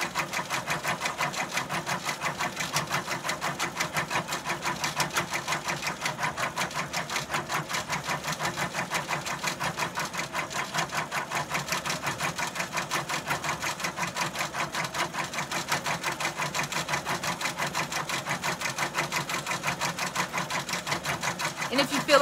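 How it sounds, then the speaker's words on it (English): A Brother PR655 embroidery machine lays down a knockdown stitch on a rubber bath mat. Its needle chatters in a fast, even, continuous rhythm close by for the whole stretch. "right now it's just doing our knockdown stitch"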